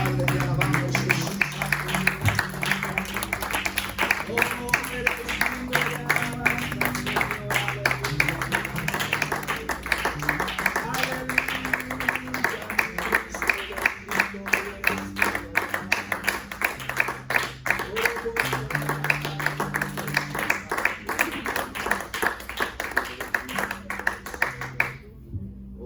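Steady rhythmic clapping from a church congregation during worship, carrying on for about 25 seconds over music with sustained tones, then stopping abruptly at the end.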